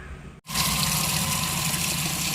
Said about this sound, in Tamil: தண்ணியை பிடிச்சி வச்சு